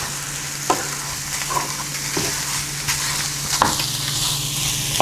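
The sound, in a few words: stirring and frying a low calorie chicken dish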